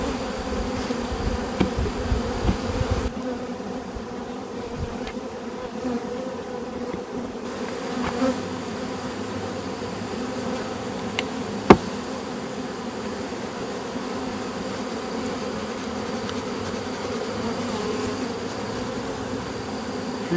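Honey bees buzz steadily around an opened hive during hive work, a continuous dense hum with a few louder passes nearby and one brief sharp knock midway.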